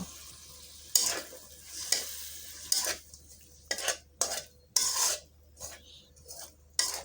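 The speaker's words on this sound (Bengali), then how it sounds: "দিয়ে দিচ্ছি আগে থেকে রান্না করা মুরগির মাংস।" Pre-cooked chicken is stirred in a pan of spice masala, with irregular loud scrapes and clanks of the utensil against metal over a faint sizzle.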